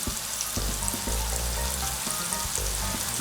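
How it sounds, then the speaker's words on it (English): Vegetables sautéing in a hot pan give a steady, close sizzle with low thumps of stirring or shifting now and then, and no voices. "I like to saute my vegetables"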